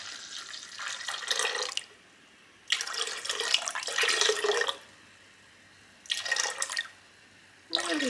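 Filtered water poured from a tap or filter into a bowl for chocolate cake batter, in three separate splashing bursts with quiet gaps, close by and with no talk.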